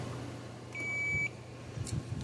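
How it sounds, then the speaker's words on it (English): A single steady multimeter continuity beep sounds for about half a second, clear and close, against a quiet low hum, while testing fence charger wiring. "The meter should beep at me."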